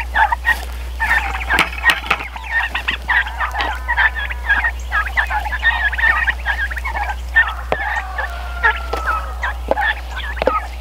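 Turkeys held in a movable net pen gobble in repeated overlapping bursts, close and fairly loud, over a constant low electrical hum.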